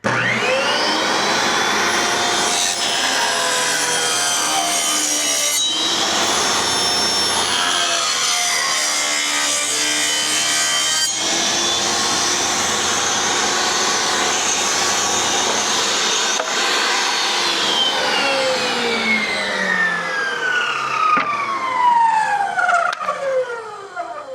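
A power saw rips strips from wooden boards for a swarm trap, a steady loud whining cut running almost continuously, with the pitch dropping near the end as the blade spins down.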